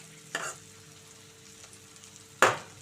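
Ivy gourd (tindora) pieces frying in a pan: a quiet low sizzle punctuated by two sharp stirring scrapes, one near the start and a louder one near the end, with no talking.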